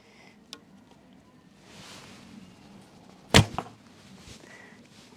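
A sharp mid-pitched crack of a Turkish Monolith bow (35 lb at 28 inches) releasing an arrow, followed by a brief thunk, up close and standing out from faint rustling background.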